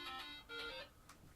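A mobile phone tucked inside the side pouch of a ham radio go bag rings with a muffled, repeating electronic tone, faint and slightly dulled by the fabric.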